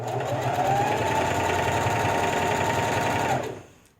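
A sewing machine runs steadily, back stitching a fabric face mask with a rapid, even mechanical chatter that winds down and stops near the end.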